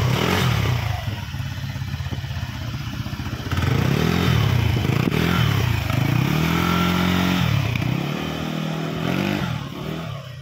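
A KYMCO KRV scooter with a faulty, overly noisy CVT runs loud and close, whining and clattering with a rough mechanical rattle as the revs rise and fall.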